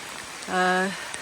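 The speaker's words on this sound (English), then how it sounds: "And now we're climbing a big, long mountain, and it is literally pouring rain." Heavy rain pours steadily on a hiker climbing a long mountain trail, making a constant close hiss. A brief humming tone rises over it for a moment in the middle.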